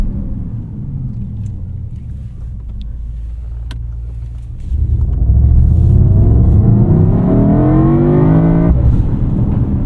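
A 2024 Mercedes-AMG GT 63 S E Performance 4-Door, a turbocharged hybrid, heard from inside while driving: a low engine rumble, then a loud surge at about five seconds as it accelerates hard with rising revs and a turbo whoosh.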